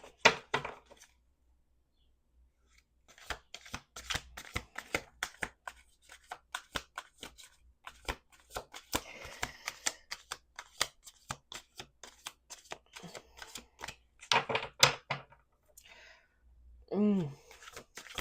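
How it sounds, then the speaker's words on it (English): Tarot cards are shuffled in repeated bursts of quick riffling and soft slapping clicks, with pauses between rounds and a brief sigh near the end. "We're gonna do two more shuffles."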